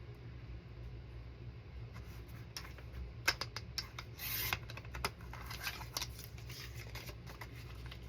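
A journal cover being cut to width, with soft scraping and rasping strokes and a few sharp ticks and snips over a low steady background hum, heard close with no talking.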